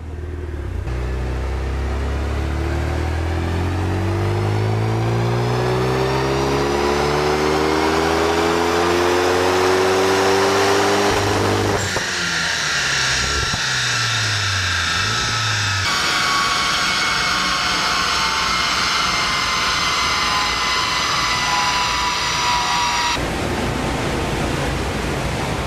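Renault Megane 3 RS engine pulling hard on a dyno during power runs, a loud sustained roar whose pitch climbs steadily through the revs, drops at a shift, then holds a high, strained wail before cutting off.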